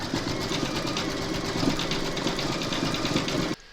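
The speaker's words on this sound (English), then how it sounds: "load your thread colour for the top spots into your machine, and then you're going to stitch round number 4" An embroidery sewing machine stitches the top spots of a domino tile design with red thread in a 4 x 4 hoop, a steady rapid whirring and clatter that runs continuously for over three seconds, then stops abruptly.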